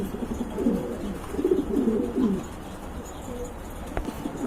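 A pair of pouter pigeons coo in low, throaty bursts, a few soft repeated calls close by, followed by a quieter stretch with faint background noise.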